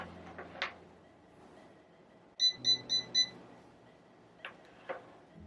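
A CHI curling iron gives four quick, evenly spaced high-pitched beeps signalling the curl is done, clear and close in an otherwise quiet room with faint handling noises.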